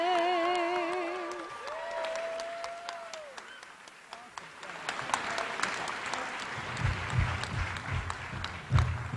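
An audience claps at an awards ceremony. Faint singing and a few instrument notes fade out first, then scattered applause builds to a fuller round near the end.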